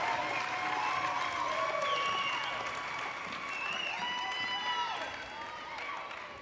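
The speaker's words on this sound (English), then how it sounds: "please give your newest Georgia Military College alumni a round of applause" Sustained crowd applause for new Georgia Military College graduates at the 2023 Valdosta campus commencement, a broad wash of clapping from a large audience with scattered cheers and voices, steady throughout and filling the hall.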